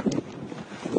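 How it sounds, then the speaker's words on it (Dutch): Strong, cold wind blowing near the Hardangerjøkulen glacier in Norway, buffeting the microphone with a steady low rumble and two louder gusts near the start and the end. "Het is wel flink winderig, het is koud."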